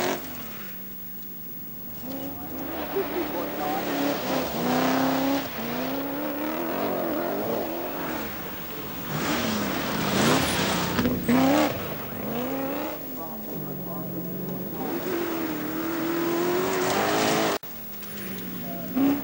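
A 1983 Austin Rover rally car driven hard on a slippery forest stage, its engine revving and rising and falling through gear changes, loud and continuous with brief dips, tyres scrabbling on loose ground.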